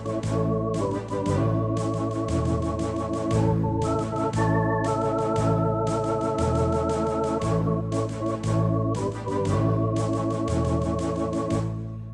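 Full keyboard chords in three-part harmony, each held for about a second before shifting to the next, played steadily and fairly loud with no voices.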